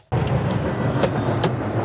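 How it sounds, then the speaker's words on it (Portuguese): A train passes by along Route 66 as a steady, loud rumble with faint clicks of the wheels on the rails, continuous and fairly near. "Olha o trem passando ali, ó."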